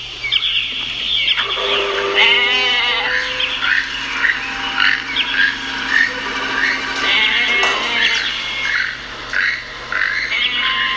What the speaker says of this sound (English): What's gonna happen to the goat?